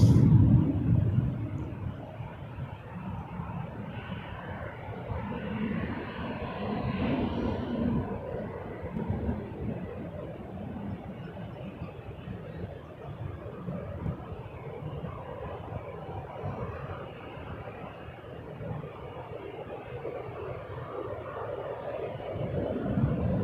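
An Air Canada Rouge airliner departing Toronto Pearson for Las Vegas, a continuous low jet-engine rumble and roar that swells and holds steady across the whole span, distant, with no talking.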